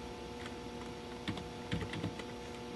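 Fingers tap a computer keyboard in a short run of quiet, close keystrokes, with a small burst of clicks toward the end.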